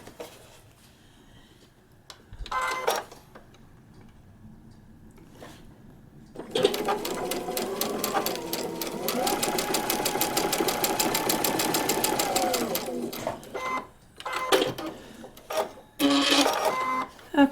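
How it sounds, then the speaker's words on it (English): A sewing machine restitching a paper-pieced quilt block runs in one sustained, rapid mechanical burst of about six seconds. Short stitching bursts and handling clicks come before and after it, close and fairly loud. "we're going to restitch this so that we do it right this time"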